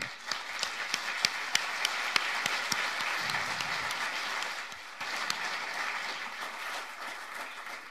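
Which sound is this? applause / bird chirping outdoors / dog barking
applause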